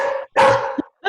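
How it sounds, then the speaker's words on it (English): A dog barks close by: two loud, sharp barks and the start of a third in quick succession. "my dog."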